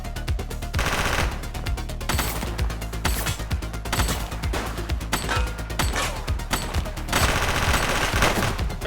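A shooter in The Precinct fires rapid bursts of gunfire, with loud clusters of fast shots broken by short pauses over a constant game soundtrack.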